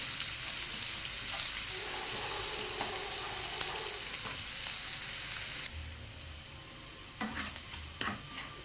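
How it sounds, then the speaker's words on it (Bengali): Onions sizzle in a hot pan, a bright steady frying hiss with occasional stirring scrapes and clinks, close and fairly quiet, the sizzle dropping off partway through. "পেঁয়াজটাকে একটু ভালো করে ভাজতে হবে"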